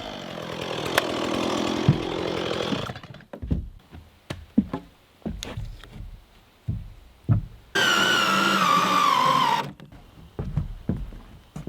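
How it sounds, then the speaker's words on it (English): Makita electric plug-in chainsaw cutting timber for A-frame micro house trusses, two loud bursts of buzzing cut, the first about three seconds and a later shorter one, separated by a series of sharp knocks and thunks. "I'm going to be using a chainsaw, so I'm going to cut tops, bottoms, get my angle right"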